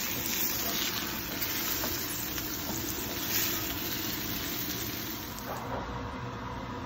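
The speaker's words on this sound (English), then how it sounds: "Always want to make sure you sear the sides as well." A bone-in prime ribeye sears in a hot pan, a steady, close sizzle hissing without a break, with faint clicks and pops scattered through it.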